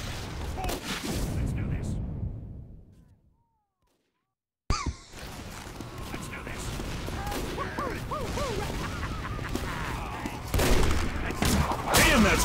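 Rapid volley of bow shots in Team Fortress 2 on a trade server, sharp bursts clustered together, followed by a dense, busy stretch of game noise and clattering effects with voices talking over it.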